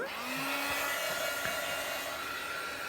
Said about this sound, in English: Just use our heat gun and set that.